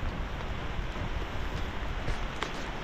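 Rain beginning to fall outside a house as a strong typhoon approaches, a steady even hiss of drops holding at one level throughout, with no one speaking.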